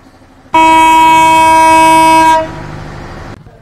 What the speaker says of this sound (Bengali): পর্যটক এক্সপ্রেস ট্রেনটি লম্বা বাঁশি দিয়ে তার গন্তব্য কক্সবাজার রেলওয়ে স্টেশনের উদ্দেশ্যে ছেড়ে দিল